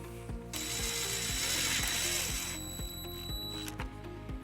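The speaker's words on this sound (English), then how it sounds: "we're going to use the provided self-tapping screw with a 1/4 inch socket" A hand ratchet fitted with a 1/4 inch socket drives a self-tapping screw into a Dodge Nitro, giving steady repeated clicks close up under a constant background hum, with no talking.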